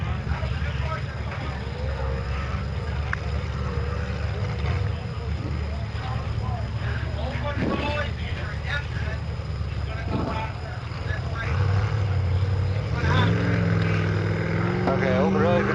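Racing motorboats at the Woods Harbour Days boat race, a continuous engine drone that rises in pitch near the end, heard from a distance under an announcer and crowd chatter.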